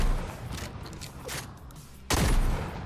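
Gunfire from the Ranger shotgun in Fortnite Reload comes as scattered shots, then a sharp loud blast near the end of the stretch, heard among game background noise.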